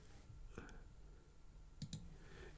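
Computer mouse clicks while working in the FreeCAD Sketcher workbench, a few faint, sharp clicks including a quick double click, recorded quietly with a low voice murmuring in the background.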